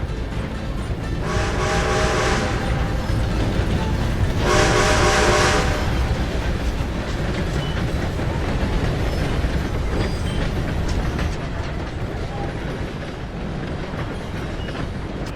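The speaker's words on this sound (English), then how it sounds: "Gotta beat that train, Morgan!" A train in the video game Red Dead Redemption 2 rumbles past loud and close, its horn blasting twice in long bursts over heavy rolling clatter that gradually fades.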